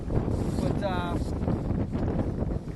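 Wind gusting across a lake, picked up from an anchored fishing boat, roaring steadily into the microphone with a brief whistling tone partway through.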